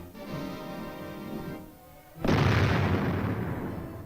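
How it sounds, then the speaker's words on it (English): A military recoilless rifle fires with a sudden, heavy blast that follows a quieter tonal stretch, then leaves a loud, sustained rumble trailing off. "The recoilless rifle, a weapon of tremendous destructive power."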